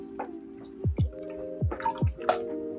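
Several gulps of water drunk from a sports water bottle, each swallow a short wet plop with a faint clunk, close and fairly quiet, with short pauses between them.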